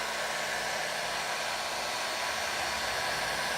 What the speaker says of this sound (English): I'm just gonna go ahead and give this a quick dry